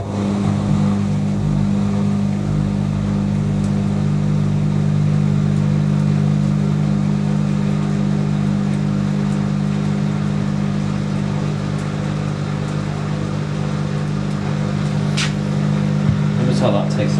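A washing machine with stiff suspension on its final spin cycle: a loud, continuous low droning hum and rumble that holds steady throughout, with brief rattles near the end.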